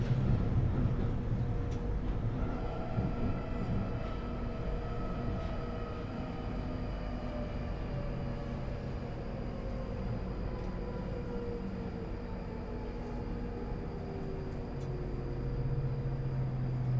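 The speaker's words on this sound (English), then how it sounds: "This is a Northern Line train via Bank" A London Underground 1995 Stock train on the Northern Line runs between Edgware and Hampstead, a continuous loud rumble with rising and falling motor whine and rail noise throughout.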